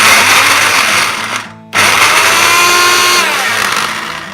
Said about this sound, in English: I'm going to put the peppers in the food processor, coarsely chop them up